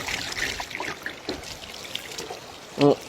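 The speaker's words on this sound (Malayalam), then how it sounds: "മെല്ലെ ഒഴിക്കുക ലക്ഷ്മണം, മെല്ലെ ഒഴിക്കും." Water poured slowly over fish being cleaned, a soft intermittent trickle and dribble close by, with a voice speaking briefly near the end.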